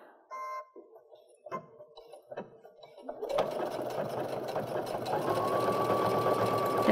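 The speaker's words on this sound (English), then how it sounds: "as you stitch the second line" A sewing machine stitches a line on a reverse appliqué snowflake pillow, starting with a few brief clunks and whirs, then running steadily and loudly to the end.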